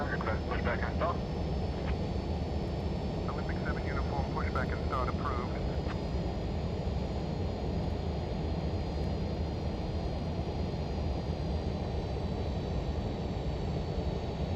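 Airliner on final approach and landing in the X-Plane 12 flight simulator, a continuous engine drone and rumble throughout with a few faint cockpit tones near the start.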